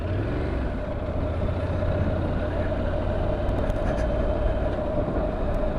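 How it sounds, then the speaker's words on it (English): Steady low rumble of heavy road traffic along a busy road, continuous and fairly close, with vehicles such as trucks and buses passing in an unbroken drone. "There's an extra normal amount of traffic about today."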